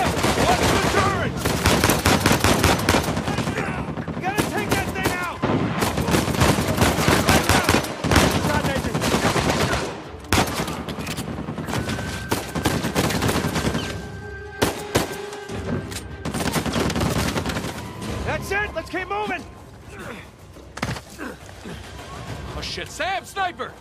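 A mounted turret in the Uncharted 4 video game fires loud, rapid bursts of machine-gun fire with scattered shots and impacts, over a dense action scene where characters shout and talk.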